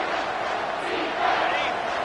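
Roaring crowd in a packed college football stadium on 3rd and goal against Oklahoma, a dense, sustained wall of cheering and yelling that swells slightly near the end, loud and continuous.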